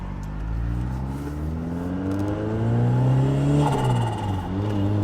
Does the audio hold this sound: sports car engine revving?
yes